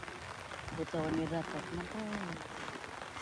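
Heavy rain pours down in a steady broadband wash, with a voice briefly talking over it partway through.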